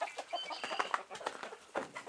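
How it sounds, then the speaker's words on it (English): A chicken in a backyard coop clucks in quick, uneven bursts, close and fairly clear, with a few sharper squawks mixed in. "there's one chicken in there"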